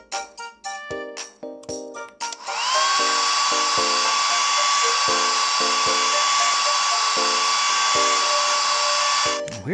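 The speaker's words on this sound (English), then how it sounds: "let's get the hairdryer" A steady, loud electric whine of a hair dryer in the 3DS game I Love My Cats blows continuously after a few seconds of short tonal blips, staying constant until it cuts off near the end.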